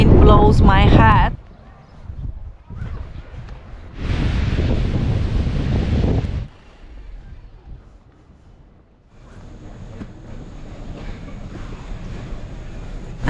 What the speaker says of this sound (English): Before the wind blows my hat